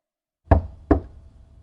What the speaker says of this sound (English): I heard someone knocking on the door.